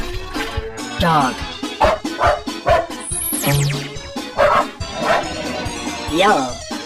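A cartoon dog gives several short barks and yips amid a busy children's cartoon soundtrack, with a voice calling out words over it, plus a whistling slide and other playful effects.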